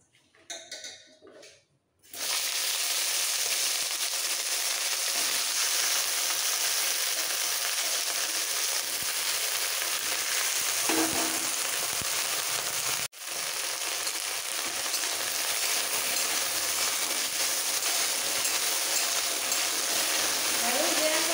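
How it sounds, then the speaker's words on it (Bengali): Okra frying in hot oil for a vegetarian okra and potato curry, giving a steady, loud broadband sizzle that runs almost unbroken after a short quiet start, with a brief dip partway through. "এইবার এই তেলের মধ্যে ঢেঁড়সগুলো ভেজে নিতে হবে।"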